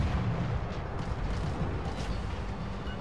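Naval guns fire in the World of Warships: Legends video game, a dense, continuous rumbling roar of heavy artillery blasts. It sounds loud and full, with no talking over it.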